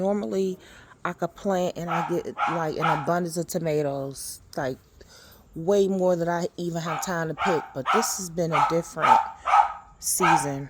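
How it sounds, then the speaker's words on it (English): A pet dog barks and yips repeatedly in a backyard vegetable garden, sharp bursts scattered beneath and between someone talking close by. "excuse my dog"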